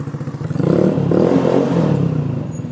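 A 2021 Scomadi Technica 125i scooter's 125cc engine revs up from a throbbing idle into a sustained, louder drone, then eases back slightly. It is heard close and alone, with no talking.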